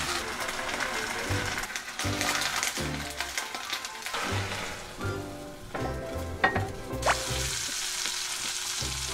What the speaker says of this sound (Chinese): 通常呢，我第一个就会炒青菜